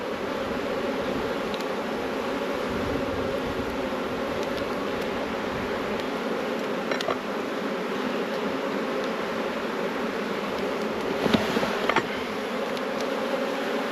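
Honey bees swarming around a frame pulled from an NL hive, a dense, steady buzzing hum that fills the space close by, with a few brief louder passes near the end.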